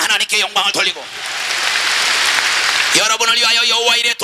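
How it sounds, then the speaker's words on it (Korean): A church congregation bursts into loud, sustained clapping for about two seconds during a Korean sermon, with a preacher's voice speaking before and after the applause. "박수치며 하나님께 영광을 돌리고"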